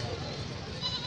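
Goat kids bleat faintly at a Lahore livestock market, brief calls mixed into a busy background with voices nearby.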